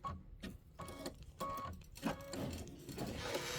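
Embroidery machine running a quilting stitch on a quilt block, steady mechanical whirring and rapid needle chatter, fairly close, with brief pauses and surges, no talking.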